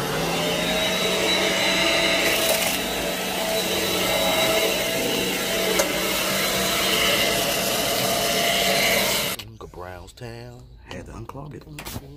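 Canister vacuum cleaner running loud and steady over a fluffy carpet rug for about nine seconds, then cutting off abruptly, leaving quieter background sounds and a voice talking.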